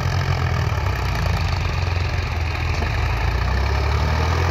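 VST Shakti 9054 and Farmtrack 60 tractors running side by side, giving a steady, low diesel rumble with a constant engine drone, heard alone at moderate volume and unbroken by talk.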